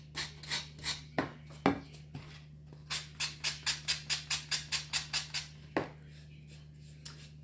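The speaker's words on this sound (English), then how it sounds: "I just went back and used that sanding block a little bit to get all that" A sanding block rubs quickly back and forth along the painted wooden edges of a small St. Patrick's Day craft piece, giving a series of short, close rasping strokes in two bursts over a faint steady hum.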